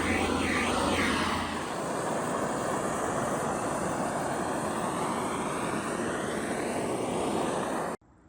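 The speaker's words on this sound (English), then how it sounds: "So I go ahead and use a torch, and I'm going to burn some of the fuzzies off." Torch burning fuzz off the creases of a chainsaw-carved pumpkin, a continuous loud close roaring hiss that holds steady before stopping abruptly.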